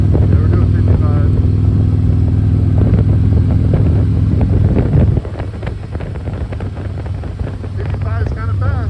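A motorcycle cruises fast at about 55 mph on a smooth mountain pass road, its steady engine drone loud and close under heavy wind buffeting, easing slightly partway through; a rider talks over it.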